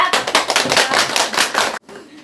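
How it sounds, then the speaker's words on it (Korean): Loud audience applause at an academy admissions seminar, dense clapping from a crowd for about two seconds before it stops abruptly. "박수 소리가 너무 커서"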